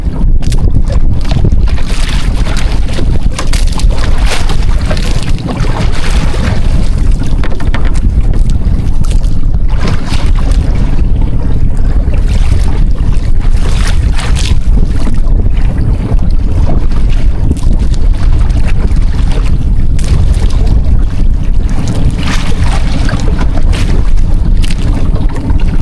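A fishing boat pitches through rough seas in bad weather, with constant loud wind buffeting and crashing, churning waves over a steady engine drone, no voices throughout.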